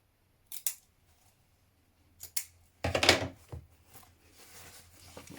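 Sharp scissor snips trim fabric at a seam while sewing a jean jacket from Simplicity pattern 8845: a few separate close cuts, quiet pauses between them and one longer crunching cut, with no talking.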